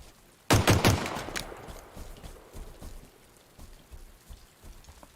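A rain ambience sound effect from Forge opens with a sudden loud burst of clattering hits, then settles into scattered patters and drops that thin out and grow quieter.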